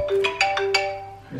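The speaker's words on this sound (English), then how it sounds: "Who's ringing me?" A mobile phone ringtone chimes close up as a quick rhythmic run of bright electronic tones, about five notes in just over a second.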